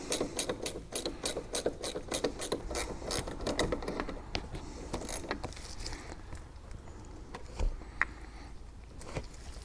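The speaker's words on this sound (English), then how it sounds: "make sure you use a ratcheting wrench" A ratcheting wrench clicks rapidly as it backs a nut off a car battery terminal bolt, a dense run of sharp pawl ticks that slows and thins into scattered clicks, close up with no talking.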